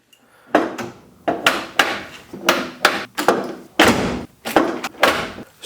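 Porsche 997 Turbo race car door being shut repeatedly after refitting the door and fender on an abandoned car; a series of about ten solid thunks and slams at irregular intervals, close and loud.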